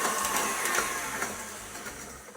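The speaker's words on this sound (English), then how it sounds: "And then just whisk this on medium-high speed until it's nice and pale." Stand mixer whisking egg and sugar at medium-high speed for brownie cookies, a steady mechanical whirr that runs continuously with a slight rattling texture and no talk.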